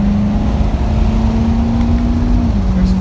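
2017 Corvette C7 Stingray Z51 V8 running under load during manual downshifts, a loud steady engine drone holding one pitch before dropping slightly near the end, heard from inside the car.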